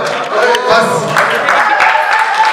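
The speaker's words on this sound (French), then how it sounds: "On peut les applaudir." Crowd applause at a kickboxing event fills the space, with steady clapping from an audience and voices mixed in under it.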